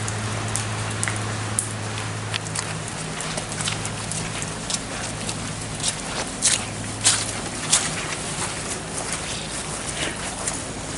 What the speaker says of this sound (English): It's absolutely raining outside.